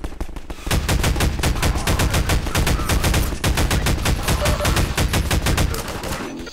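Rapid automatic gunfire in Half-Life 2 hammers in fast, evenly spaced bursts, loud and close, nearly nonstop for several seconds before thinning out.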